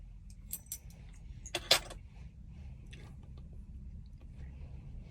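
At a locksmith shop that cuts keys, a bunch of metal keys jangles in a few short bright clinking bursts over a quiet low room rumble.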